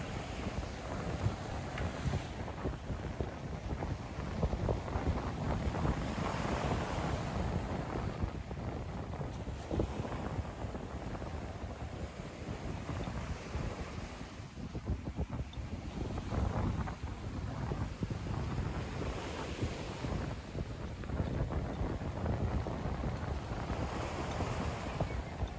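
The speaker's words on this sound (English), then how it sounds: "And let's have a little windy beach time." Strong wind on an Atlantic beach after a hurricane buffets the microphone in continuous gusty rumbles, with a broad rushing roar underneath, like an open shoreline.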